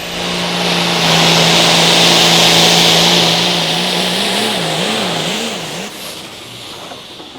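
A Light Limited Pro Stock pulling tractor roars at an outlaw tractor pull in Wisner, Nebraska, its loud engine droning steadily, then wavering and wobbling in pitch as the load bites before easing off.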